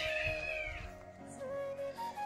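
A cat meows in a rural Odisha household, several drawn-out tonal cries close by over a steady low background, with no talking.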